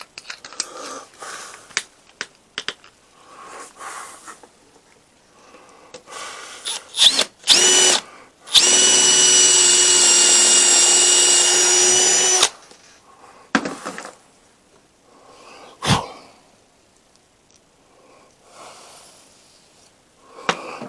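A power drill fitted with a 6.5 mm bit bores through material in one sustained, loud whine of about four seconds, with scattered clicks and handling noises before and after.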